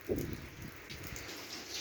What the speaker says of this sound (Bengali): বৃষ্টি এখন হচ্ছে বাট অল্প গুড়ি গুড়ি হচ্ছে